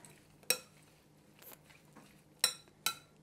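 Pico de gallo mixed in a bowl with a utensil: a few sharp clinks against the bowl, spaced irregularly, over soft quiet stirring.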